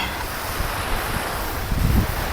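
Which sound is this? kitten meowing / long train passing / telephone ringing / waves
waves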